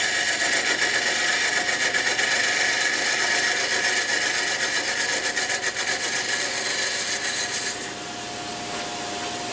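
A wooden sword is turned on a lathe while a bead and cove are cut: a continuous loud, hissing scrape of the tool on spinning wood that eases off near the end as the cut lightens.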